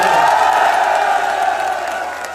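At a political rally in Jalilpur, Chandpur, a crowd cheers and shouts loudly in a dense, continuous roar that slowly fades a little over a couple of seconds.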